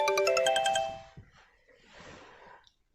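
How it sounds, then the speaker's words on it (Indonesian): A mobile phone ringtone chimes in a repeated bright melodic pattern for about a second, then stops, followed by faint rustling and a brief murmur during an Easter school service. "HP-nya Kak Yonatan bunyi"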